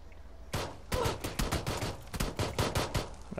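Pistol gunshots in a video game, fired as a rapid series of sharp, loud reports at an irregular rhythm, close up, with almost no talk.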